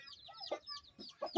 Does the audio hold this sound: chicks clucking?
yes